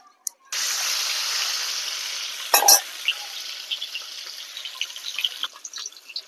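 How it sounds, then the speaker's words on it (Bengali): Eggs coated in salt and turmeric drop into hot mustard oil in a kadai and sizzle loudly, a bright steady frying hiss with a sharp spatter burst partway through and smaller pops crackling afterward. "এবার তেলটা গরম হয়ে গেলে আমি নুন হলুদ মাখা ডিমটাকে ভেজে নেব।"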